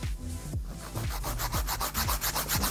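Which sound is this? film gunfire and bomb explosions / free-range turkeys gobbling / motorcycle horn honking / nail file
nail file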